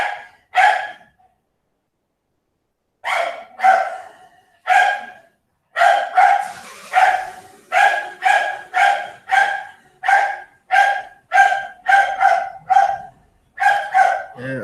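A dog keeps barking loudly and close by as its owner leaves by car, starting with a few isolated barks and then breaking into a long, steady run of rhythmic barks; no talking is heard.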